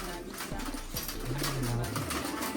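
A pigeon being handled coos close by in a low, soft, drawn-out rolling call, with a couple of shorter low notes before it. Steady background hiss runs underneath.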